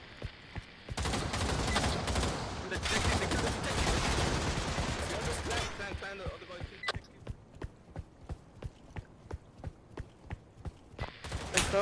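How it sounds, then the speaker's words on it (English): Gunfire crackles in the VR shooter Pavlov, first as a dense burst amid voices, then as a series of evenly spaced sharp shots ringing out in the background while players talk. "People are shooting behind us."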